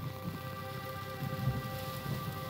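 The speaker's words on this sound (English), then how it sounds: "And it's raining." Steady rain patters down in the horror dating game Sucker For Love, a continuous wash of falling water with occasional low rumbles rising beneath it, fairly faint and unbroken by any voices.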